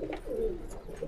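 Pigeons coo in a breeding loft, a low rolling call close by that swells and fades over about a second, with faint chirps above it.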